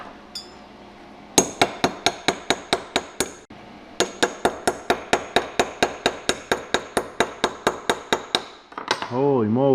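Hammer-like chipping of slag off a fresh stick weld: rapid, sharp metallic knocks in two fast bursts of about a dozen strikes each with a brief pause between, close and loud, ending with a scraping rattle.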